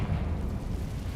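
A Confringo blasting spell explodes in the Hogwarts Legacy video game, a short booming burst with a rumbling low-end tail, heard alone.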